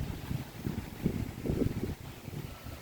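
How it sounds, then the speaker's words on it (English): Wind gusts buffet the microphone outdoors in low rumbling waves, rising and falling steadily with no talking. "Last reading I'm doing today because it's so windy."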